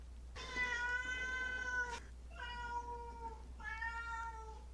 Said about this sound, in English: There's my daughter's cat again, coming to visit us.